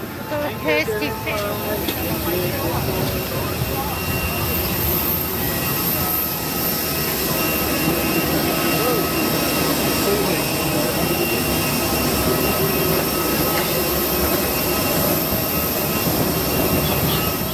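Steady, loud roar of a TransNusa airliner's jet engines after landing in Bali, running continuously from start to end with faint voices and a cabin announcement mixed into the noise.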